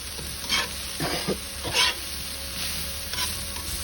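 A quesadilla filling is stirred in a sizzling pan in a solar kitchen, with scraping strokes of the utensil in short bursts over a steady frying hiss.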